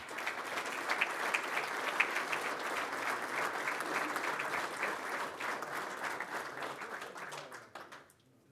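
Steady audience applause at a golf club ceremony marking a 60th anniversary, many hands clapping evenly for several seconds before fading out at the end.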